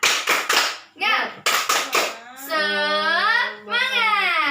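Fifth-grade schoolchildren and their teacher do a rhythmic spirit clap in a classroom, sharp patterned claps alternating with chanted voices and a sustained sung note.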